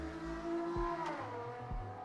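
A car engine revs and races outside, passing by at moderate distance with rising and falling tones and a brief tire squeal, steady throughout.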